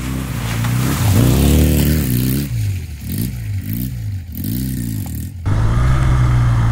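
Honda Benly motorcycle ridden off road, its engine close and loud, revving up and down in repeated surges before settling into a steady drone.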